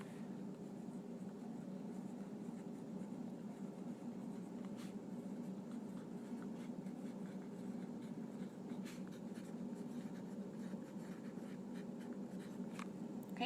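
A pencil scratches faintly and steadily across the paper of a composition notebook in a quiet room, soft continuous writing strokes with no voices.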